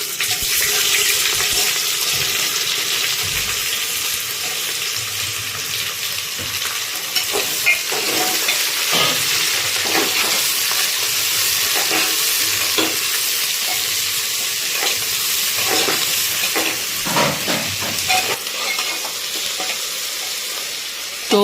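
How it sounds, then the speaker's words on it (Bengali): Sliced onions frying in hot oil with whole spices for a Bihari-style mutton curry hiss in a loud continuous sizzle, with occasional spoon scrapes and taps near the end. "এখানে কিন্তু পেঁয়াজটা এখনো অবধি ভাজা চলছে, আর একটুখানি ভাজা হবে এটা।"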